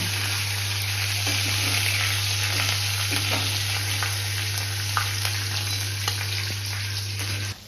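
Marinated chicken pieces fry steadily in hot oil, a dense, continuous sizzle with small crackles, close and loud throughout, alone without talk.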